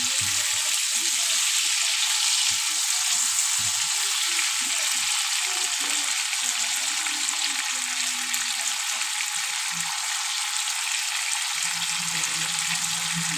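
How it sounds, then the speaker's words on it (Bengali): Steady, loud sizzling of salted potatoes frying in a pan for a silver carp curry, a constant bright hiss throughout with occasional low clunks of stirring. "লবণটা দিয়ে আমি আলুটা বেশ ভালো করে ভেজে নেব"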